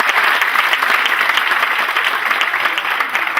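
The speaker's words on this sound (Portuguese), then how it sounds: "por favor, uma salva de palmas" An indoor audience at an evening lecture on coaching and mentoring claps warmly for the presenter, giving dense, sustained applause throughout.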